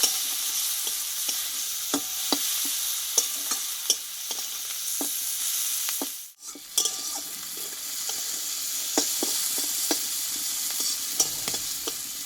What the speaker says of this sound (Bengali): মাছটা আমি ভালো করে ভেজে নেব